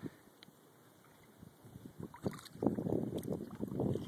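Kayak paddle strokes dip and splash in the water at a nature preserve, a series of soft close sloshes growing busier toward the end, with light wind noise.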